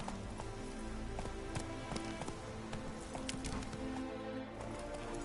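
Roach, the horse in The Witcher 3, gallops with a quick, continuous run of hoof clops, fairly quiet and mixed with a rain-like patter throughout.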